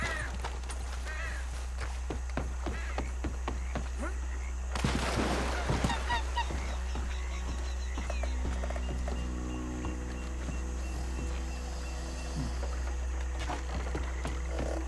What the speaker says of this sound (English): There's a random little duck out here.